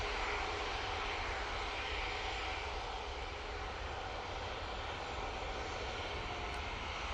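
Aircraft flying at Manchester Airport, a loud, steady engine roar filling the whole stretch as a plane passes nearby, with broadband rushing noise and no talking.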